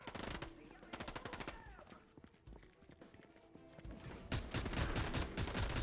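Rapid bursts of automatic gunfire from a weapon in Fortnite, chapter 4 season 4, crackle in quick repeated volleys with short pauses, then a denser louder barrage near the end, with faint game sounds mixed in.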